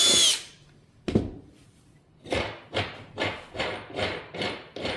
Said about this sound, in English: Now you're ready to drill your second pilot hole